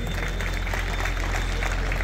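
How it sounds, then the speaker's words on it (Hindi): An audience at a tug of war event in Nokha, Bikaner, claps loudly together, a dense steady wash of applause filling the whole moment with crowd noise. "एक बार जोरदार तालियां बजाइए।"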